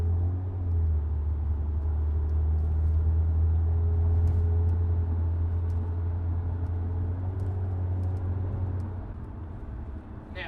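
A 2013 Honda Accord Coupe V6 with a Borla exhaust holds steady around 2,000 RPM, giving a deep, even exhaust drone that stays loud and constant for most of the stretch before easing slightly near the end.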